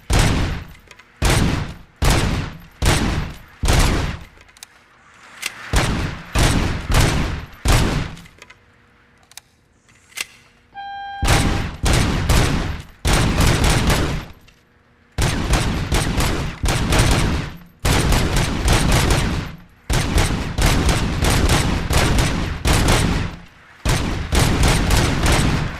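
Rapid gunfire from a service weapon being calibrated at a shooting range in the video game RoboCop: Rogue City, with loud close volleys of shots, brief pauses, and a short electronic tone partway through.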